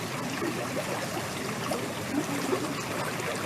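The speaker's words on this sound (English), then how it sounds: "I wonder how you would feel if you were sitting at the base of this waterfall," A forest waterfall pours into the pool at its base, making a constant even rush of flowing water with light gurgles and no voices.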